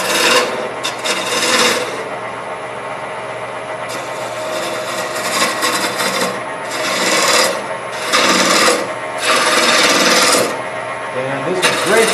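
A big roughing gouge hogging wood on a turning lathe gives repeated loud rasping, scraping bursts over a steady motor hum, cut after cut across the stretch.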